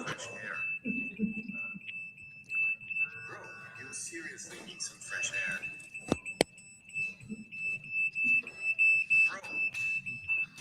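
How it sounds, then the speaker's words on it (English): A smoke detector alarm sounding during a city council meeting, a steady piercing high beep running throughout under intermittent talking and a sharp knock partway through. "The fact that they set off the smoke detectors isn't enough to kick them out."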